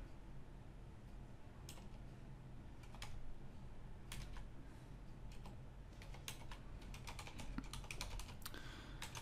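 Computer keyboard keys are tapped while a password is entered, sounding as quiet, irregular clicks in short runs over a low steady background hum.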